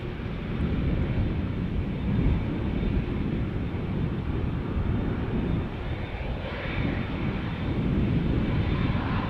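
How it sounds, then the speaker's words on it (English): A continuous, loud roar from an Airbus A330 widebody airliner at Amsterdam Schiphol Airport. The broadband jet-engine rumble holds steady throughout and swells slightly near the end, heard up close outdoors. "an A330 to New York JFK that is coming this way"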